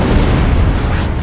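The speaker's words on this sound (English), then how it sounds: "That's a scripted explosion." Loud, close scripted explosion in the video game Halo: Combat Evolved, a dense rumbling boom sustained across the whole moment with no talking.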